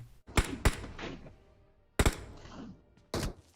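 Gunfire in PUBG Mobile on the Erangel map, with sharp single shots in separate bursts, two close pairs and a later burst, each dying away with a short echo, and no talk in between.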